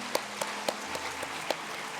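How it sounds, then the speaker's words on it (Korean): A church congregation at a New Year's Eve service claps together, a handful of distinct, moderately spaced claps in a reverberant hall, fairly soft and without talk. "우리 서로 축하하며 축복하며 한번 박수하겠습니다."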